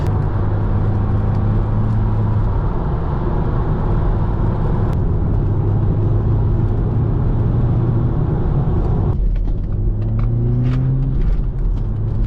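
Steady engine drone and road rumble inside a moving Audi S3 8P with quattro all-wheel drive, a continuous low hum that shifts pitch partway through as the car changes pace.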